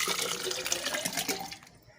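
Homemade lassi made from homemade yogurt is poured into a vessel, giving a close, continuous liquid splashing and gurgling that tapers off at the end, with no talking.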